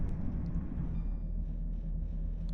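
Low, steady rumble of a train on Scotland's Highland Main Line rolling slowly into Stirling station, with a faint hum and occasional light squeaks, as it draws to a halt.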